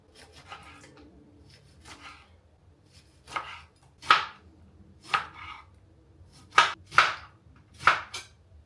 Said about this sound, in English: I'm gonna start by slicing all my lemon.